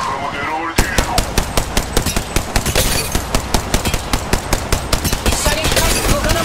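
Rapid automatic gunfire in Apex Legends Mobile, a steady run of sharp, loud shots in quick rhythm lasting several seconds after a brief quieter lead-in, with game voice lines in the background.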